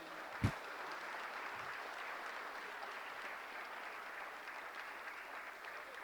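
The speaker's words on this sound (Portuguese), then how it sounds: "Você pode aplaudir ao Senhor Jesus." A church congregation claps in steady, sustained applause at a moderate, even level, with a single sharp thump near the start.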